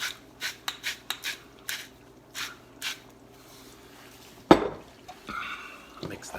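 Ground beef being mixed with salt for moussaka in a bowl, with a series of soft scraping and clinking strokes from a utensil in an uneven rhythm, ending with a louder knock.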